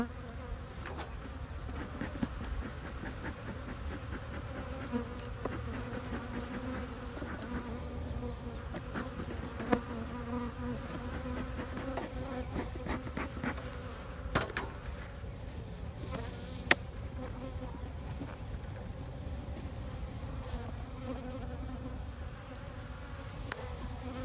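Honeybees buzz steadily and close throughout an early-spring hive inspection, a dense drone-laden swarm hum with a few sharp louder moments, and no talking.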